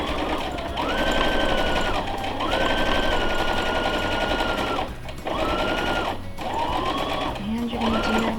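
A sewing machine hums in long stitching runs with short pauses while sewing a child's fabric face mask, its motor whirring steadily as someone talks over it.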